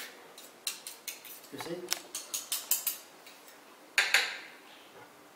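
A knife chops a tomato finely on a board, giving a quick run of crisp, evenly spaced taps close by, a brief pause, then a few more cuts, with a short spoken remark partway through.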